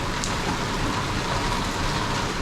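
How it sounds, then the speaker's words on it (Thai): Steady rain pours down at a Penang street food night market, a dense, even hiss of drops on surfaces filling the whole stretch with no voices over it. "เรามาฝนตกแล้ว"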